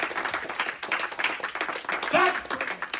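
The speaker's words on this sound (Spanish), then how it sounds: "Darle palmas de alabanza al que vive y permanece para siempre." A church congregation claps in praise with rapid, irregular hand claps throughout, mixed with voices and a brief shout partway through.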